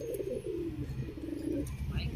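Low, throaty pigeon cooing rolls in continuous phrases, close and moderately loud, with a brief higher chirp near the end.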